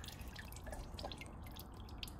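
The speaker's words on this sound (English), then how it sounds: "it drips onto this cross member here" Engine oil dripping from an Audi A4 Avant onto a car cross member during an oil change, a steady patter of small drips over a constant wet hiss with no talk.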